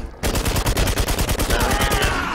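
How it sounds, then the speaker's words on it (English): Rapid automatic gunfire in Romero's Aftermath, a loud, close burst of about twenty evenly spaced shots fired in quick succession with no pause. "What are those shots behind us? That's me firing at this dude."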